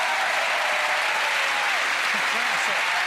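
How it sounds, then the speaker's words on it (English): Loud, dense applause from a theatre audience at a Penn and Teller magic show, filling the whole stretch at steady strength, with a few faint voices showing through underneath. "A nice round of applause for Penn Teller."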